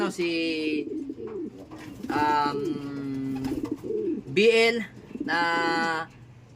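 Racing pigeons coo repeatedly nearby, soft throaty calls in short phrases with a few higher chirps mixed in, over a quiet background.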